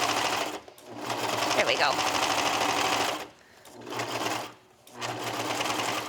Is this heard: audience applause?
no